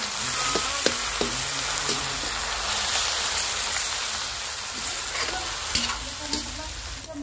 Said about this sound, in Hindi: अच्छे से भून लेते हैं प्याज के पेस्ट को पहले